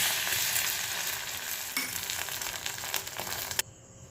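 Steady sizzling of a three-egg omelette frying in a pan, a continuous bright hiss with a couple of small scrapes, cutting off abruptly near the end.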